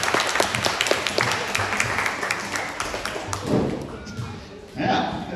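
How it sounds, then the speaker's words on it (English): An audience at a wildlife park in Western Australia clapping for a sheep shearer, a burst of sharp scattered claps and taps that thins out toward the end, fairly loud and near. "Let's give him a clap."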